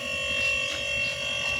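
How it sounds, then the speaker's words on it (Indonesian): A refrigerator compressor runs after a repair for a fridge that was not cooling, giving a steady, close electrical hum with fixed tonal lines and no talk. "terdengar suara ya. Nah, suara dari kompresornya"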